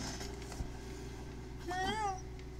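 A cat in the horror video game Layers of Fear: Inheritance gives a single drawn-out, wavering meow, fairly near, over low ambient background with a faint knock beforehand.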